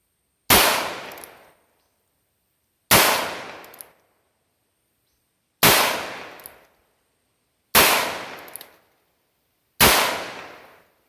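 Five loud, sharp revolver gunshots fired one at a time at a target on a shooting range, each blast ringing out briefly and then fading into silence before the next, spaced roughly two to three seconds apart with no talking.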